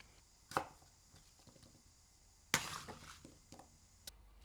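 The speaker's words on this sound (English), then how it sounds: "I start with a fresh apple, cut it into big chunks" A knife cuts a fresh apple into big chunks, two sharp board thuds about two seconds apart with a few lighter taps after them, close and crisp in a quiet room.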